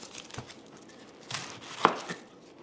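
An onion roughly chopped with a knife on a board, a handful of soft, uneven cutting taps with one sharper knock near the end, fairly quiet.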